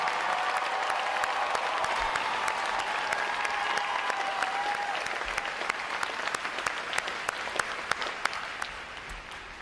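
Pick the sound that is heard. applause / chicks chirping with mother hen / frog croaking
applause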